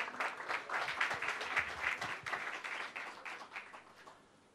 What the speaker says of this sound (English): A special applause of appreciation of them is really in order.